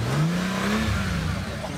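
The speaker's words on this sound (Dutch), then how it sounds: "Dat motortje, dat hoor je nu al." A Bentley engine revs and accelerates close by, a rising then steady engine tone held loud for under two seconds with no voices over it.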